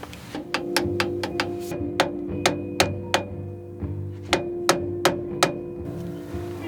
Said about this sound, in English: And then we're torquing this to about 150 foot-pounds.